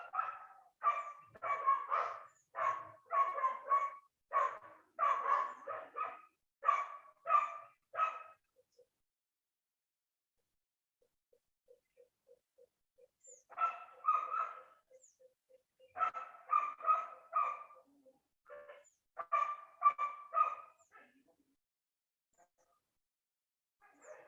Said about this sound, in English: your dogs are not too happy being locked up